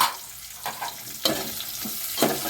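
A medium-size onion sautés in a pan for mint rice, with a soft sizzle broken by several sharp stirring scrapes and clinks at irregular intervals.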